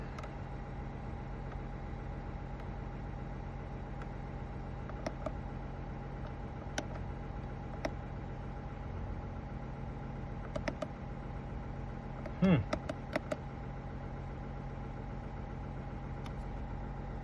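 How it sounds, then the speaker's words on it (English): A 2024 Chevrolet Silverado 1500 idles with a low, steady engine hum that holds evenly, joined by a few faint clicks and a brief chirp partway through, with no one speaking. "I'm just going to turn the engine off"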